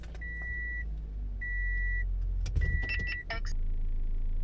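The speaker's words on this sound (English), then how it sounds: "you should be able to hear it beeping" Three long, steady electronic beeps from a car parking sensor, reversing toward the back of a garage, sound at even intervals over a low, constant car-interior hum.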